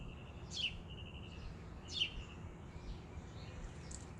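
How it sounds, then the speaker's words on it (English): Birds chirp outdoors in two brief, faint, high tweets a second or so apart, set against a soft steady background hush. "The birds have come to cheer you on."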